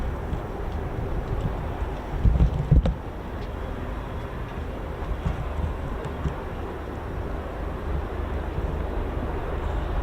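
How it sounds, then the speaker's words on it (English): A Lynx helicopter passes at an air show, heard as a steady, broad low rumble mixed with wind buffeting, with a brief louder thump partway through and no voices. "Helicopter heaven here today. Another one."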